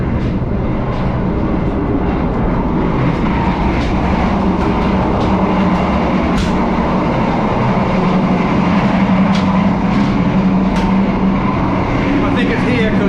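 An economy-class train travelling from Jakarta to Yogyakarta makes a loud, continuous rumble inside the carriage, with rattling clicks and thumps from the wheels and muffled voices beneath it.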